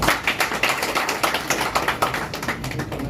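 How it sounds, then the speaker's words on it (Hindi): A crowd applauding at a Hindi-language public event honouring a chairman's appointment to an SC/ST organisations federation, with dense, sustained clapping that fills the whole stretch loudly and evenly, and no speech over it. "ताली जोरदार बजा भाई।"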